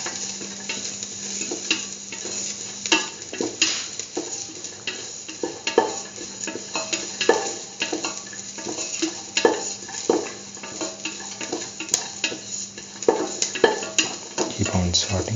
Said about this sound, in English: saut the garlic pieces thoroughly